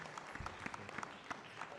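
A conference audience at a live medical endoscopy event claps briefly, a fairly faint, moderate patter of hands with a few distinct louder claps.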